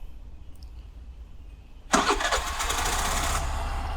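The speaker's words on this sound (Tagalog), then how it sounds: "So ito, brake natin. Yun, one push start naman siya." A Suzuki Burgman 125 scooter engine catches on a single push of the starter after a short quiet stretch, then settles into a steady, fairly loud idle that runs to the end.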